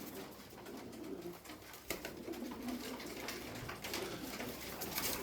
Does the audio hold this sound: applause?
no